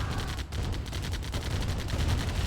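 Rapid turret gunfire in a Command & Conquer Heavy Metal match, tearing into tanks as a steady dense battle rattle with repeated bursts running the whole time.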